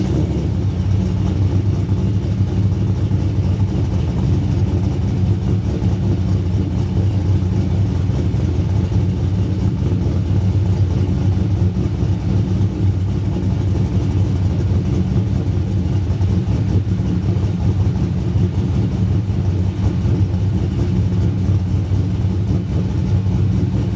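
Holden VT Berlina with an LS1 V8 runs steadily and loudly up close, a deep continuous rumble holding nearly level throughout with no clear rev swings.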